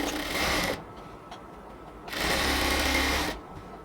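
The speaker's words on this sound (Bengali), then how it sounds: "এবার দুটো পাশকে নিয়ে আমরা উপর থেকে কমপ্লিটলি সমানভাবে ধরে তারপর আমরা উপর থেকে এবার নিচ পর্যন্ত স্টিচ করে নেব" Sewing machine stitching the side seams of cotton ladies' pants, two close, steady whirring runs of about a second each separated by a short pause.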